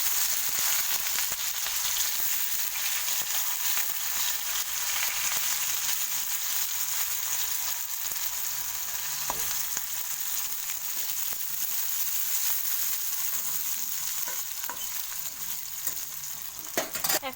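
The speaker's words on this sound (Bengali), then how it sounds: "তো এখন আমি পেঁয়াজ কুচি দিয়ে দেবো।" Chopped onions fry in a pan with a steady, close sizzle lasting the whole time, broken by scattered scrapes and taps of stirring.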